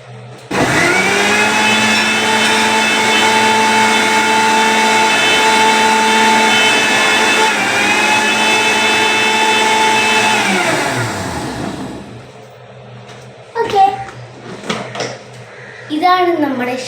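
A mixer grinder whirs loudly and steadily while blending a jackfruit shake, then spins down after about eleven seconds, followed by a few clinks and brief handling noises.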